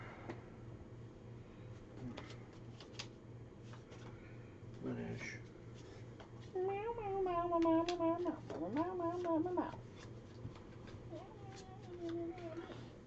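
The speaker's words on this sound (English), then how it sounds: "Hello, Kitty." Domestic cat meowing indoors in a series of rising, wavering cries, fairly close and clear, over a steady low background hum.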